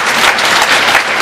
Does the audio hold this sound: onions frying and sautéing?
no